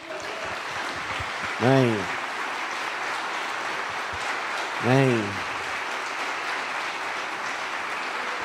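Church congregation applauding during a Pentecostal sermon, a broad steady wash of clapping under brief spoken amens from the preacher.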